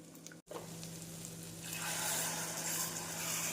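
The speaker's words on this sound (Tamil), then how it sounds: "மசாலாக்கள் சேர்த்து மிதமான தீயில் நன்றாக வதக்கிய பின் ஊற வைத்த புளி தண்ணீரை சேர்த்து விடலாம்" Masala spices sizzle and fry in a pan over medium heat, a soft steady crackle that grows brighter and fuller after a brief pause.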